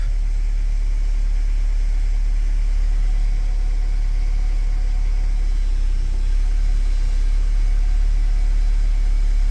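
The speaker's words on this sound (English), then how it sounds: "as it idles, I'm gonna check everything over to make sure it's not leaking" A used car's engine idles during a post-repair check, a loud, steady low rumble that holds an even level throughout with no voices.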